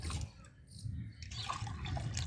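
Water splashing and trickling as it is filled into a container, steady pouring noise close by with a short pause midway.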